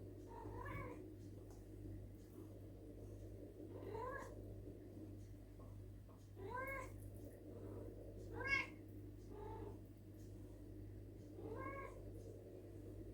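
Several cats begging for food meow repeatedly and insistently at close range, one call after another every couple of seconds, over a low steady hum.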